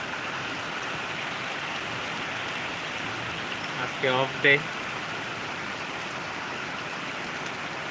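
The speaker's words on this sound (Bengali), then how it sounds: "বৃষ্টি পড়তেছে সকাল থেকে" Rain falls steadily all morning, a constant even hiss of drops heard close by, with a short spoken phrase briefly rising above it.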